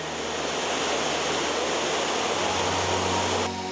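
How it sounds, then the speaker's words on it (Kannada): A waterfall in Kodagu pours in a steady, full roar of rushing water, broadband and constant, fairly loud and close with no other sounds. "ಕೆಲವೊಮ್ಮೆ ಜುಳಜುಳನೆ, ಕೆಲವೊಮ್ಮೆ ಭೋರ್ಗರಿದು ಎದೆ ನಡುಗಿಸಿ ಹರಿಯುವ ಕೊಡಗಿನ ಜಲಪಾತಗಳು"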